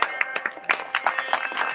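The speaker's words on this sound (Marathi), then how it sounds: "मला त्याच्याकरता टाळ्या वाजवा." An audience at a village Ramayana ceremony in Akoli claps in brief, uneven bursts, close and fairly loud, with scattered hand claps overlapping for under two seconds.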